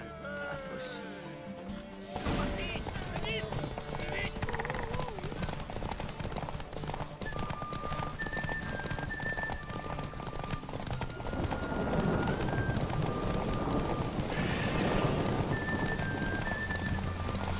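Steady clip-clop of horse hooves at a quick, even pace in a horse race in The Witcher 3: Wild Hunt, joined by tonal chimes and game-like ambience after a brief opening.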